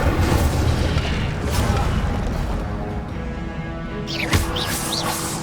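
An Incendio fire spell is cast in Hogwarts Legacy, a loud roaring burst of flame with booming rumble over continuous game noise, ending in a sharp crackling flare.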